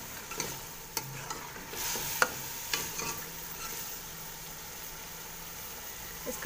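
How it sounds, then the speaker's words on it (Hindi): Potatoes roast in masala in a pan for malai aloo gobi. A soft, steady sizzle runs under a few scraping stirs and light clinks of a utensil, quiet and close, with no talking. "देखिए जनाब इस वक्त इसमें आलू को भी भून रहे हैं।"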